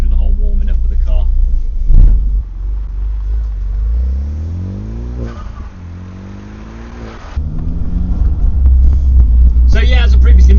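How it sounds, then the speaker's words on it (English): A Renault Clio engine warming up with a low rumble and rising revs, the engine note climbing and falling a couple of times, close and loud. "The engine's still slightly warm from last time, so I'm going to go through the whole warming up of the car."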